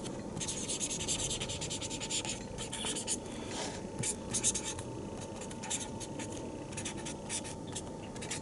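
A pen scratches steadily as signatures go onto women's pro wrestling trading cards, a close, continuous scribbling rub with small bursts of stroke noise.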